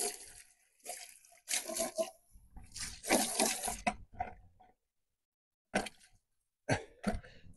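A hose pipe rinsing parts of an FX6 canister aquarium filter, bursts of gushing, splattering water starting and stopping in irregular spurts with short silent gaps.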